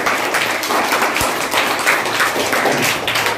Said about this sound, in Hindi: परी के लिए भी तालियां।